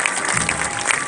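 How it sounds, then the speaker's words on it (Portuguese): A crowd in the Piauí backcountry claps steadily to welcome a São Gonçalo procession, dense continuous applause filling the space with faint voices mixed in. "Vamos recebendo com as palmas o nosso glorioso São Gonçalo."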